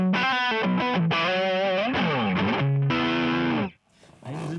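Electric guitar played through The Phoenix, a Klon-style overdrive pedal, ringing out sustained, bending overdriven notes and chords up close before cutting off sharply near the end, then a faint noisy tail.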